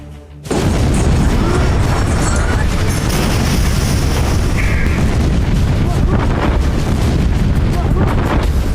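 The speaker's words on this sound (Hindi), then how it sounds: "बेरूत में ऐसे धमाके हुए कि जर्रा जर्रा तक कांप गया।" Explosions in Beirut in news footage: after a brief quiet moment a sudden massive blast erupts into a sustained, loud roaring rumble with crackling debris and wind buffeting, and a voice is faintly audible.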